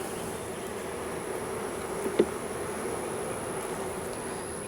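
Honey bees around an open hive, a faint steady hum with a brief knock partway through.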